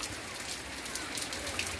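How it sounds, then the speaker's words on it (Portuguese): Rain falls steadily on an afternoon in Joaquim Gomes, Alagoas, a bright continuous hiss of drops striking surfaces, even and close throughout, with no talking. "Estou aqui só curtindo essa bela chuva."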